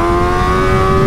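Kawasaki ZX-4RR racing motorcycle on a track, Graves Motorsports build, giving a steady, loud, raspy high-pitched engine drone held at high revs throughout, with no pauses.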